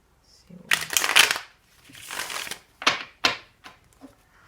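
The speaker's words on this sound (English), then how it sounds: "So we've shuffled your beautiful cards." Cards are shuffled close by in several quick riffling bursts, each a soft crisp flutter, with brief pauses between them.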